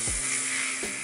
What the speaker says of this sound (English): I'm actually gonna take out this drill